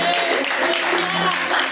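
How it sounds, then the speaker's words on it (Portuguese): A church congregation claps joyfully in a brief, busy burst of many hands, with sustained musical tones underneath. "Pode acender as palmas bem alegre para Jesus."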